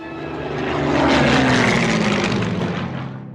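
Piston engine of a World War II-era Soviet propeller fighter aircraft, a loud steady drone that swells toward the middle and holds, alone with no talk.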